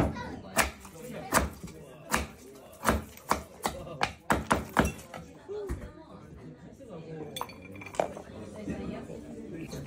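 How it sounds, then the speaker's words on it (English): A drinking glass spun and tapped on a kitchen surface near a cutting board, giving a series of sharp, close clinks and rattles in an irregular rhythm, followed by people chatting quietly. "Glass spin."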